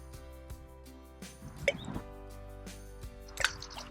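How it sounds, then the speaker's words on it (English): Periwinkle shells tossed back into the sea, heard as a few sharp little plops and splashes, two of them clearly stronger, against a quiet low hum of background noise with no talking. "I gathered them all up and chucked them back into the sea"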